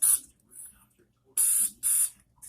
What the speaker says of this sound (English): So I'm going to add a little bit of spray silicone in them